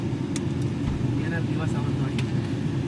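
Vehicles passing on a road near a bridge in a village beside a highway, a steady drone of engines with occasional horn-like tones, under near, continuous talk.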